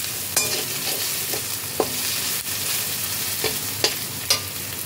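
Onion, ginger and garlic frying together in a pan, a steady close sizzle broken by several short scraping stirs of a spatula, with no voices.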